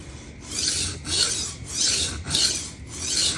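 A kitchen knife sharpened freehand on an Atoma diamond stone makes about five rhythmic, gritty rasping strokes back and forth, close and clear with no voices.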